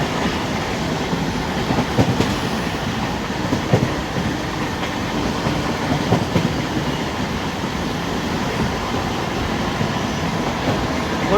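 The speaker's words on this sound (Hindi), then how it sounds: "दोस्तों अजमेर गरीब रथ और फ्रेट ट्रेन की पैरेलल रेस आप देखें।" Steady roar of the Ajmer Garib Rath, a first-run LHB coach train, racing parallel to a freight train on a freight corridor, with continuous wheel rumble and faint rhythmic clatter heard loud and close throughout.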